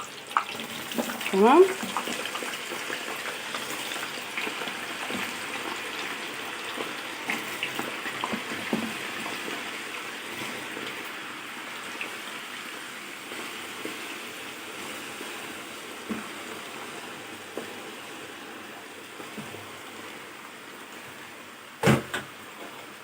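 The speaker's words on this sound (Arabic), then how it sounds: "الزيت اهو سخن. هننزل بالبطاطس الاول." Potatoes dropped into hot oil for frying, a soft steady sizzle with faint bubbling and occasional clinks and scrapes, under a brief spoken word.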